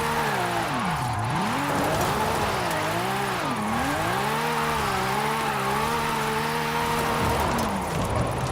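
Car engine in Forza Horizon 5 revving hard near the top of fourth gear during steering-wheel drifting on a volcano, a loud continuous wavering drone rising and dipping repeatedly.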